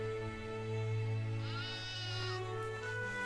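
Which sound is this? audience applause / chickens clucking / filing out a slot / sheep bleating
sheep bleating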